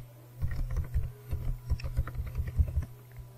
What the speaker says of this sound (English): Then I am going to write my password here.